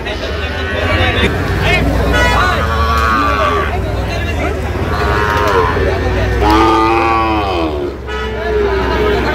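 A Sahiwal bull's low moo rises over a noisy crowd at a Dhaka cattle market, with people talking close by and traffic sounds in the background.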